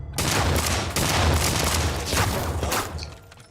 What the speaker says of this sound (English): That's the thing about shooting ghouls.